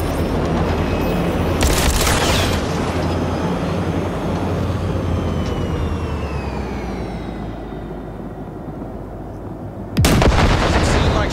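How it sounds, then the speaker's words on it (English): Gunfire in the game Cyberpunk 2077 aimed at rusted cars in a scrapyard: a steady, loud rattle of shots under a low rumbling drone, with denser bursts near the start and a sharp, loud volley near the end. "Let's keep shooting at those rust buckets."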